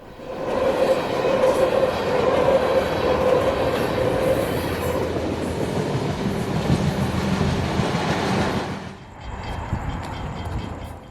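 A train rumbles past close by, loud and steady, with clattering wheels and a squealing tone. It fades away after about nine seconds, leaving quieter ambient noise.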